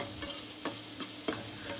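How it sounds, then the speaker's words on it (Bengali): Chopped onions fry in hot oil in a pan for an egg bhuna, a constant close sizzle broken by about four sharp scrapes of a spatula stirring them. "এখন আমি কিছু সময় ধরে পেঁয়াজগুলোকে নেড়ে চেড়ে ভেজে নেব।"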